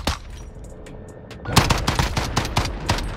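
Video game gunfight in a community tournament: rapid automatic gunfire bursts, loud and close, building from scattered shots into dense volleys.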